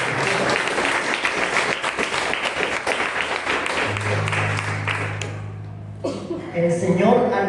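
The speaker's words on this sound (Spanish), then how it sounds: "Denle un aplauso al Señor Jesucristo." A church congregation applauds in dense, sustained clapping. Near the end the clapping fades under a held organ or keyboard chord and a voice speaking.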